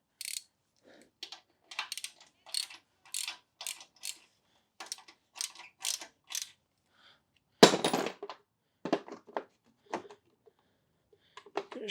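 A ratchet wrench tightens 17 mm mounting bolts on a Rugcel Tank 13k winch, giving repeated short bursts of clicking at close range. A louder clank lands near the middle, and no one speaks.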